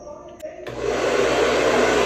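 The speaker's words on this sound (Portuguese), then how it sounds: "Vou secar ele, porque tem três meninas querendo usar o secador, né?" A hair dryer switches on and runs with a loud, steady roar that continues to the end, drying curly hair at home.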